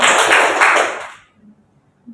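A burst of group clapping in a three-clap rhythm in a classroom, dense and loud for about a second, then fading out quickly into near silence.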